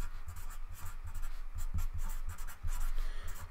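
Marker writing the word oxide on a board during a chemistry lesson on naming epoxides, with steady scratchy strokes and short pauses between letters, heard close up with no speech.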